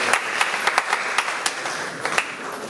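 Scattered, moderately loud hand claps from an audience at a book launch in Ghana, with irregular sharp claps over a soft background of clapping.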